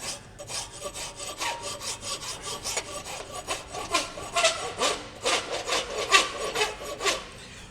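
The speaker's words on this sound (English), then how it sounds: "You don't have to use a horseshoe rasp, I just quite like them." A horseshoe rasp works quickly across a wooden knife handle, shaping its corners in repeated rough scraping strokes that rise and fall steadily, close and fairly loud, with no talking.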